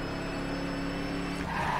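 Engine of a 1967 Chevy Impala SS in circuit spec driven in the racing game The Crew, a loud, steady motor drone with a brief shift in pitch near the end.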